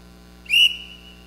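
One short, shrill whistle blast blown to summon household staff, rising sharply and then trailing off, loud and alone against a quiet background.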